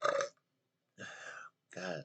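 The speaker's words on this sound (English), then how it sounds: "Excuse me, I didn't mean to burp" Three separate burps after drinking mead, close and fairly loud, each a short croaky belch with silent gaps between them.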